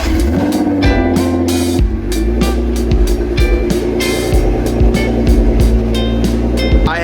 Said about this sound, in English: I have not been able to get over how good this car sounds